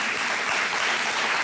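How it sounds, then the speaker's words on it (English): A studio audience claps through a short, dense stretch of applause that holds steady at fairly loud level from start to finish. It sounds like a crowd of many hands, with no voices standing out. "don't often get applause for it, but thank you."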